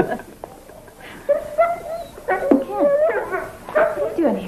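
A Schnauzer being groomed gives a string of high, wavering whimpers and yips, close and fairly loud, in several bursts after a quiet start.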